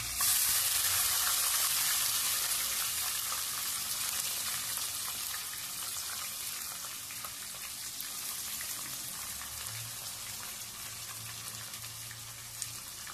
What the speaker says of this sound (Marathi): हे बघा, हा आपला कांदा पण मी यामध्ये टाकून घेत आहे।